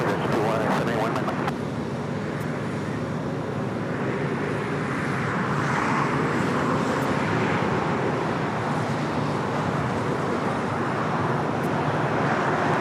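A KLM Boeing Dreamliner arriving at LAX from Amsterdam, a steady broadband jet roar that holds loud and constant throughout, blended with distant roadway traffic.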